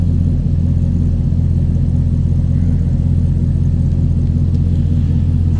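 A 2006 Chevrolet SSR convertible pickup's engine idles with a deep, steady rumble, close and constant throughout, with no one speaking.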